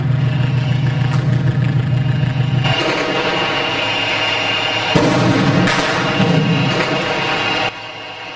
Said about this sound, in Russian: Это впереди бьет артиллерия сирийской армии.